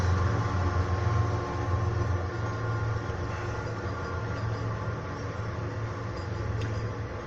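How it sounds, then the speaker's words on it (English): A train passes by with a continuous low rumble and steady rolling noise, fairly loud and unbroken, fading slightly over several seconds with no talk. "you're going to hear a train go by"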